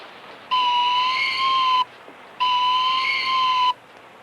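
A whistle used to call a trained hawk sounds two sustained, steady toots of about 1.3 seconds each, separated by a short pause, clear and fairly loud against a quiet background.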